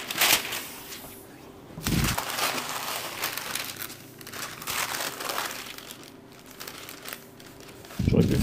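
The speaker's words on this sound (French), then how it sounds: "Je protège avec du papier" Paper is handled and laid over a kitchen worktop for protection, with repeated crinkling and rustling bursts, loudest near the start and end, mixed with a speaking voice.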